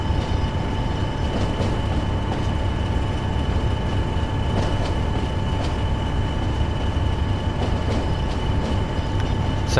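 A heavy train rolls steadily along a Trans-Pennine line in Train Sim World, a continuous loud rumble and rail drone with faint rhythmic clicks over the whole stretch, no voices.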